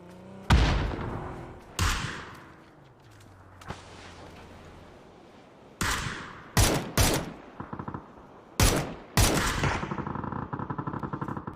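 Bursts of video game gunfire crack out as several loud, sharp shots and short volleys. Near the end a rapid automatic stream rattles steadily, with quieter gaps between the earlier bursts and no speech.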